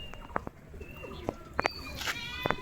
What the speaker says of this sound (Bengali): এই যে একটা বিস্কুট পায়রা উঠছে, আর একটা ঘোলা পায়রা উঠছে